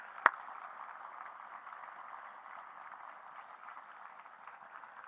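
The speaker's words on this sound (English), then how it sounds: "So I'd like a big round of applause for Kathleen." Audience applause at a military change of command ceremony, a steady, even wash of clapping from a crowd that starts with one sharp clap and holds at moderate loudness.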